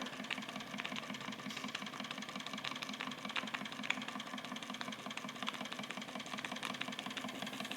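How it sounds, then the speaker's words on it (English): A Wilesco D455 double-action model steam engine runs at a steady pace, its quick, even mechanical chuffing and clatter repeating in a tight rhythm close by, with no talking. "So double action steam engine, you've got yourself a power stroke in both directions"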